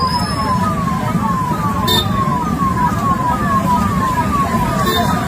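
A highway ambulance siren wails loudly and close by at a roadside accident scene on the Nanded–Ardhapur road, its tone sweeping in quick regular cycles over a steady traffic rumble.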